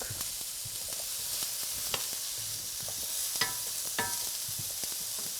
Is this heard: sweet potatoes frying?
yes